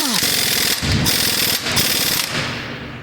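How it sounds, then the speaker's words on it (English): A Honda Odyssey crankshaft pulley bolt is driven home by an impact wrench in three loud, close rattling bursts separated by brief pauses, with no talk over it. "Grab my impact, and tighten down this bolt."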